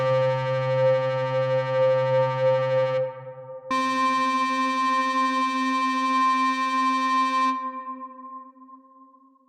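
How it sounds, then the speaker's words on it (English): A steady synthesizer sine tone with bright harmonics pulses as an LFO cuts the volume in and out, then abruptly shifts to a higher, brighter timbre before fading out; loud and electronic. "with the LFO, we gain a pulse as the volume cuts in and out"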